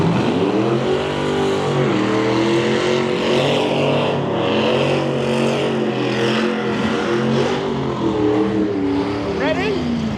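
A big old Chevy Impala drag car at Santa Pod Raceway, a former wheelie car, roars with a loud, rich, rumbling V8 note that swells and holds steady throughout, with voices faintly mixed in.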